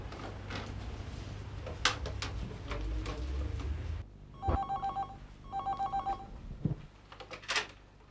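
A telephone rings in two clear bursts of repeated electronic trilling in a quiet room, after a stretch of rustling and movement noise, with a thump between rings.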